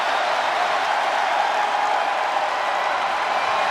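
A wrestling arena crowd applauds during a SmackDown women's title match, producing a dense, loud, continuous wash of clapping and cheering that holds evenly throughout.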